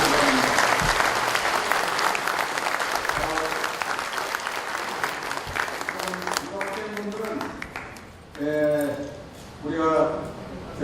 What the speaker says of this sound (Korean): 함께 여러분 큰 박수로 환영해 주시기 바랍니다.